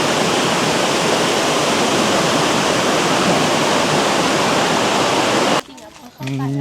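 A waterfall in northern Thailand roars as a loud, dense, steady rush of falling water that cuts off abruptly near the end, where a brief voice is heard.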